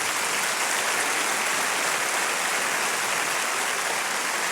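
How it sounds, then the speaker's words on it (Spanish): Steady, dense applause from a church congregation fills the space at a constant level with no pauses, a broad clapping wash and no voices on top. "Te doy otro aplauso porque te lo mereces."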